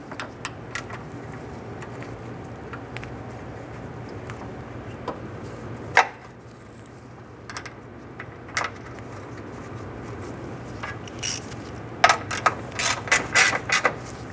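Ratchet wrench snugging down radiator bracket bolts on a 1994-2004 Ford Mustang during an AC condenser replacement, heard as scattered clicking bursts and a quick run of ratcheting near the end over a steady low garage hum.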